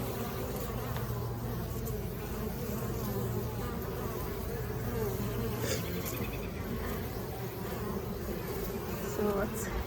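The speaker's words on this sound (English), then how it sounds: "group of bees, but we'll check it out, see what's happening" A dense, steady drone of many honeybees buzzing around an open beehive during a spring hive inspection, continuous and close, with individual bees flying past now and then.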